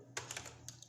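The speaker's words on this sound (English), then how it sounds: "Then you have to type any website, any particular website that you have to find." Quick keystrokes on a computer keyboard, a short burst of three or four close, crisp clicks with no talking.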